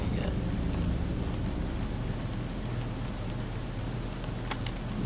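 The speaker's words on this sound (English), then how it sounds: "it's raining again" Rain falling in the video game Fallout New Vegas, a dense, steady hiss of downpour with low rumbling wind underneath, constant and moderately loud.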